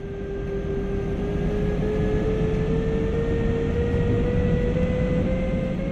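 Steady rumble inside a double-deck passenger coach hauled by a BR146.2 electric locomotive on the Spessart ramp between Aschaffenburg and Gemunden in Train Sim World, with a constant motor whine over the running noise and no voices.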